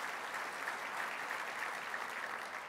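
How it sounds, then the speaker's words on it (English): Steady, even applause from the audience at a Chamber of Commerce State of the City event in Oklahoma, continuous throughout with no voices over it. "Again, a round of applause for"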